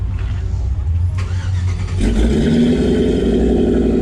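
A truck on 17-inch rims cranks briefly and then fires up, its engine settling into a loud, close idle rumble.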